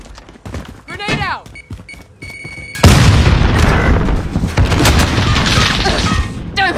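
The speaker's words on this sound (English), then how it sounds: "Grenade" A grenade goes off in Call of Duty: Warzone, a sudden loud boom that follows a few seconds of quieter in-game sounds and then leaves a dense, rumbling wash of noise.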